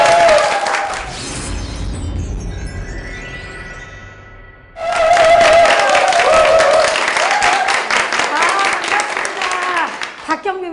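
Studio audience applause welcoming a guest lecturer on a Korean TV lecture show, a loud sustained burst of clapping that fades briefly and then swells again.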